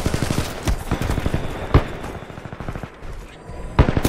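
Rapid rifle fire in the video game Titanfall 2, dense bursts of loud gunshots with sharper heavy cracks punctuating the stream, close and continuous with no talk.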